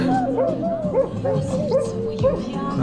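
Dogs yelp and howl in wavering, rising tones along to a song at a pump room in Truskavets, the canine cries recurring throughout at moderate loudness.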